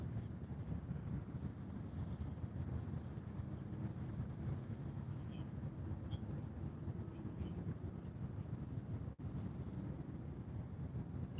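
Wind buffets the microphone on a fishing boat, a steady low roar with no breaks over the whole stretch and no one talking.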